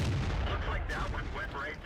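A tank gun firing in World of Tanks, a heavy booming shot with a rumbling low end and a trailing decay, loud and close in the game's mix.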